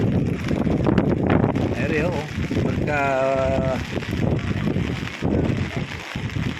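Steady, rushing wind noise by the sea fills the background while a person talks over it, with a brief vocal call partway through. Recorded at Dingalan, Aurora.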